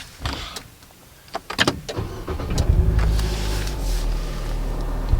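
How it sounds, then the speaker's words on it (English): A car engine cranks and catches, settling into a steady low idle after a few clicks and clunks from inside the vehicle. "let's go ahead and start the vehicle so we could test our dash cams"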